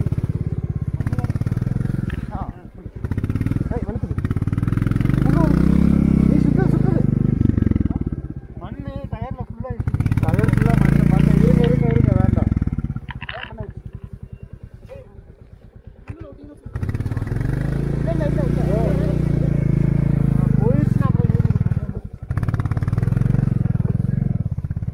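A motorcycle runs in heavy rain, its engine rising and falling in several long roaring surges with brief lulls between them, close and loud. Speech is heard over parts of it.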